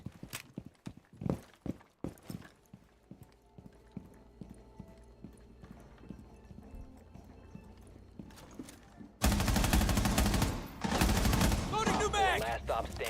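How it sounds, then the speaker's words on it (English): Gunfire from the video game Rainbow Six Siege X cracks out as a handful of sharp, separate shots early on, then a louder burst of dense firing and clatter near the end, with a voice heard in between. "Was that someone else shooting at me?"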